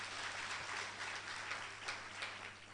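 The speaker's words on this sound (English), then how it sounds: "But we could give a better clap to the UNESCO Regional Director," Applause from an audience at a World Teachers Day 2023 event, honouring the UNESCO Regional Director: a steady, dense wash of many hands clapping, moderately distant and fairly faint, sustained without pause for a few seconds.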